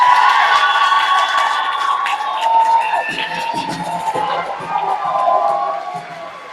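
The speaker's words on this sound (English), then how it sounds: "I need everybody to give a round of applause for Ben Harn." A banquet audience cheers and shouts in a loud, continuous burst of crowd noise with whoops, which tapers off slightly toward the end.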